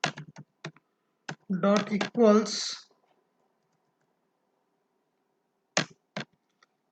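Keyboard typing of Java code on a computer, heard as a few scattered sharp key clicks near the start and end, with someone speaking briefly in between.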